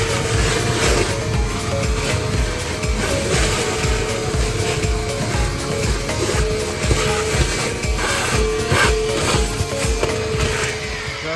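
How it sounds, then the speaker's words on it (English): A vacuum roars steadily as it sucks water and debris out of a koi pond's BioFalls, with gurgling, rattling bits of grit, loud and close the whole time. "we're gonna go ahead and vacuum all the water and debris out of the BioFalls here"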